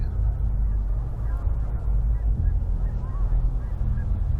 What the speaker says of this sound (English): You could hear the geese.